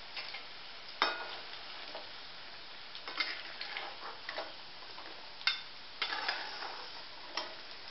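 Green gram (moong dal) pieces fry in oil in a pan, giving faint, scattered crackles and pops at irregular intervals over a quiet background, with no voices.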